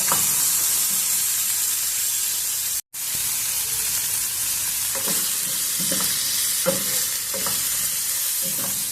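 Small tomatoes sizzle and fry in a pan for oats upma, a steady close hiss broken by soft stirring scrapes and taps, with one brief dropout early on.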